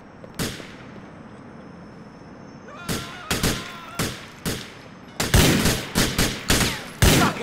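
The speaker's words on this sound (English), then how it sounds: "who the fuck is shooting at me?" Gunfire in Grand Theft Auto IV: a lone shot, then a run of spaced single reports, followed by a denser, louder volley of sharp bangs, with a faint ambient hum between them.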